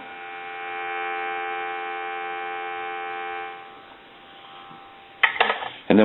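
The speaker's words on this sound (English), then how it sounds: "Give you some dial tone." A repaired candlestick telephone gives a steady electronic dial-tone hum for about three and a half seconds, then fades, followed by a couple of sharp clicks and handling clatter.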